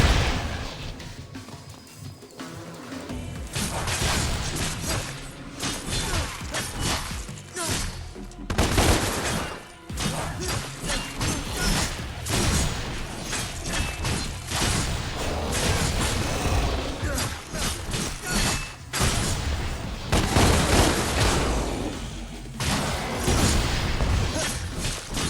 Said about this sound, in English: Now use your guns to shoot him down!